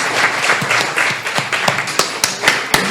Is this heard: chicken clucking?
no